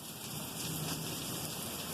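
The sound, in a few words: rain during a thunderstorm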